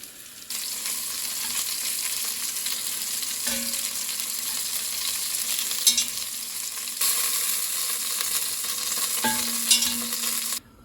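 Beef pieces frying in oil in a pot for stew, a steady close sizzle running throughout with occasional stirring clatters and brief scrapes.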